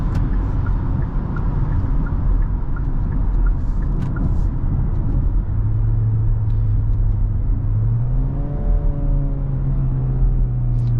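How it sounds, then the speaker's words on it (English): A 2023 Hyundai Tucson SUV driving in sport mode gives a steady, loud engine and road rumble heard from inside the cabin, with a rising engine tone under acceleration near the end. "Let's go ahead and put this SUV in sport mode."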